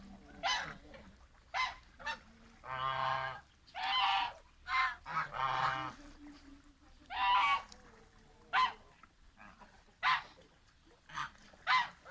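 A goose honks repeatedly at close range, a series of loud nasal calls spaced irregularly, with quieter pauses between.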